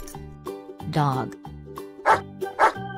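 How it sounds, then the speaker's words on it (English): A dog gives two short, sharp barks in quick succession near the end, following a brief vocal sound, over a soft steady musical backing. "Dog."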